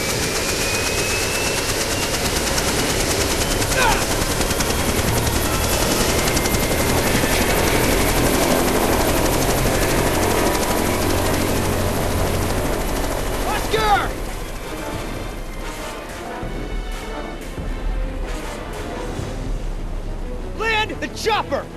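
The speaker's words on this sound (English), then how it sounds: "The chopper!" A helicopter roars loud and close in the Jurassic Park: The Game video game, its thudding rotor and engine filling the scene amid shouting voices and frantic action sounds, then it eases slightly while chaotic noises continue.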